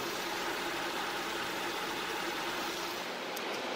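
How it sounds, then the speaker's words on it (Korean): A Hyundai Equus 3.8 GDI petrol engine idles steadily, a quiet, smooth hum heard up close with no roughness or surges. "당연히 굉장히 정숙한 엔진 소음이 나고요"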